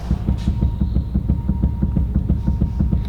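A rapid, regular knocking clunk from a worn Ferrari suspension joint, damaged in a crash, as the wheel is shaken up and down, repeats about five times a second, metallic and close, over a low hum.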